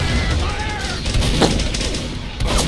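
Team Fortress 2 gunfire crackles in a dense burst of shots and booms that runs through the whole moment, loud and close, with other game noise and faint voices mixed in.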